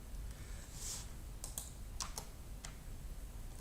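Computer keyboard keys are pressed during work in GIS software: a few sharp, separate clicks in a quiet room, one slightly louder tap standing out from the rest.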